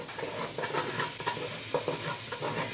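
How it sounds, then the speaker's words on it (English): A flour roux being stirred in a pot for turtle gumbo, giving a steady soft scraping and gentle sizzle with irregular stirring strokes, close and moderately quiet, with no talking. "We're gonna stir this roux until it turns to a chocolate color."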